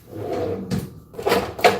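A kitchen drawer slides open with quick wooden rattles and knocks, rummaging close by in a quiet room, a couple of louder clacks near the end.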